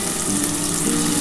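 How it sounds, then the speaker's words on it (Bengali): Chopped onion frying in hot oil in a pan while cooking a Bengali duck egg dish, giving a steady, dense sizzle and crackle that holds evenly throughout with no talking. "এবার এই তেলের মধ্যে আমি প্রথমে পেঁয়াজটা দিয়ে দিচ্ছি।"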